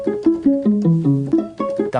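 A pizzicato viola sound from Audi's sound studio plays a quick run of plucked, pitched notes, loud and close with a bouncing rhythm and no talking.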